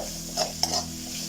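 Tomatoes go into browned onions in a pan while a chicken roast with coconut and ghee is cooked; a soft, faint sizzle sits under a few spoon scrapes and one sharp clink of stirring, with a low steady hum behind.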